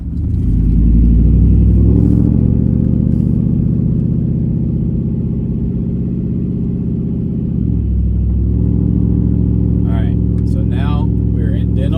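A car engine with true dual exhaust and two 16-inch Cherry Bomb glasspacks rumbles deep and throaty at idle and revs up and down, with a brief voice near the end.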